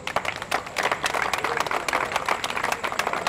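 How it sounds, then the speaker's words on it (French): Spectators clap for a performing group at a drum gathering, a short burst of fairly loose, uneven clapping with distinct individual hand claps standing out in the mix. "Applaudissez-les encore."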